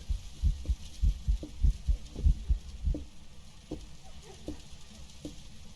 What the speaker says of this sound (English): Why am I getting heartbeat from a mile away?